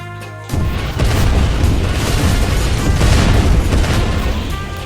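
A building blows up in a video game set in California: a sudden loud boom gives way to a dense, continuous roar of crashing and rumbling debris that fills the rest.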